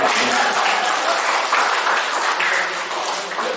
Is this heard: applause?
yes